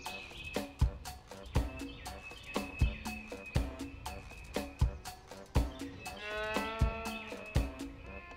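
A cartoonish cow moos several times over a rhythmic thumping game soundtrack in the video game Cow Catcher, with the lowing tones stretching between evenly spaced beats.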